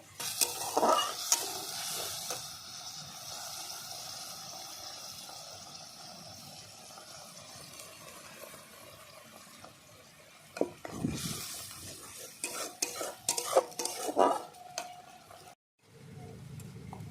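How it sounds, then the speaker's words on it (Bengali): Onion paste sautéed in a pan for an egg curry sizzles steadily while a spatula scrapes and stirs in bursts, louder toward the end, then pauses briefly before the frying resumes. "পেঁয়াজটা ভালো করে আমি কষিয়ে নিয়েছি"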